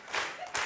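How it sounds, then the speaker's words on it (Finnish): An audience clapping at a live comedy show, a brief burst of applause that swells and then fades, fairly faint and distant. "Hyvä yleisö! Kättä yhteen!"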